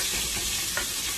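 Onions going into a pan of hot beef fat left from fried flank steak, a steady close sizzle and crackle with a light stirring scrape and no voices.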